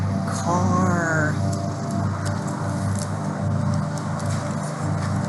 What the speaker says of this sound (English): Sorry about the mowing sound in the back.